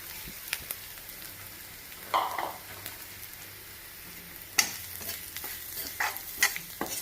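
Banana flower stir-fry with crushed coconut, garlic, curry leaves and bird's eye chillies is stirred in a pan, giving scraping strokes over a steady low sizzle, with a few sharper clatters near the end and no voices.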